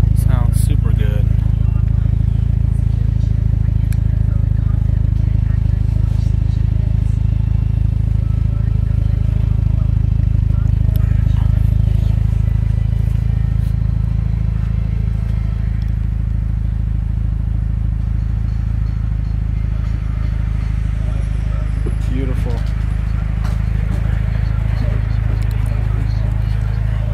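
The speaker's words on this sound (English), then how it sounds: "Hear that exhaust again." Exhaust of a white 2006 Mitsubishi Lancer Evolution IX MR, a steady low idle-like drone with faint clatter running throughout, close and loud, with someone talking over it.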